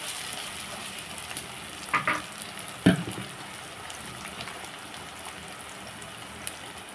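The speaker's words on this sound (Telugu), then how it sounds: "వంకాయ ముక్కలు వేసేస్తున్నాను." Pieces of brinjal sizzle in hot oil in a pan on the stove, giving a steady crackling hiss with a couple of brief clatters partway through and no talking.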